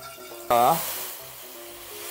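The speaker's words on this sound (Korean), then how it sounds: "이렇게 다진 마늘 반 스푼 넣습니다. 양파가 노릿노릿해질 때 같이 볶아줍니다." Minced garlic and onion hit a hot pan with a sudden loud sizzle that fades into a softer, steady frying hiss as the ramen base is stir-fried, with a voice talking over it.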